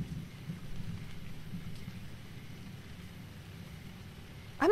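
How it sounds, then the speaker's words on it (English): Rain falling in the dating game Kitty Powers' Matchmaker, a soft continuous patter with low rumbling beneath, steady and fairly quiet, ending in a brief brighter sound. "It's raining at Mother's Tucker."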